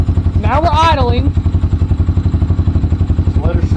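A Honda Hawk 250 motorcycle with upgraded carburetor and exhaust idles steadily nearby, its low, even pulsing running throughout while someone speaks briefly over it.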